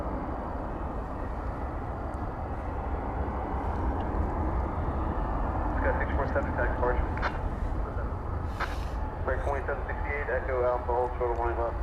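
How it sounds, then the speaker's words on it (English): Frontier Airbus A320 with a hummingbird tail, taking off from DFW toward Denver: a steady distant jet roar runs throughout while a person talks over it in the second half. "Frontier flight, which has the Hummingbird on the tail and has been waiting now for what seems like kind of a long time, is finally off to Denver."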